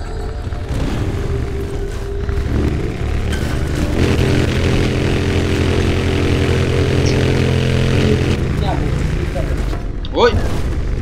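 A motorcycle engine in Tomb Raider: Underworld, set in Southern Mexico, drones steadily with a low, continuous rumble that swells slightly midway, while someone talks over it.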